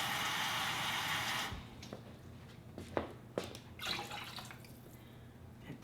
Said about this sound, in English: 3 cups of warm water, hot water.